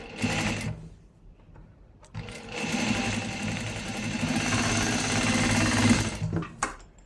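A sewing machine stitches a blouse up close in two runs: a short burst, a brief pause, then a longer, steady rapid whir that stops abruptly.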